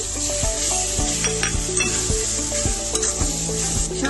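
Chopped chicken frying in a pan over a medium gas flame, a steady loud sizzle broken by regular scraping strokes of a spatula stirring the pieces, with no voices.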